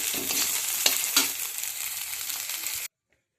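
Hot oil sizzling and crackling in a pan as a tempering for an okra dish is prepared, steady and close, then cutting off abruptly near the end.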